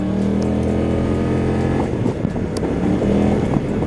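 A Kymco CV3 scooter engine hums steadily and loudly throughout while riding, its pitch wavering slightly, with some road noise and no voices.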